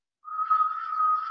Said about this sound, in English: Have you ever heard the squeal of a hearing aid, the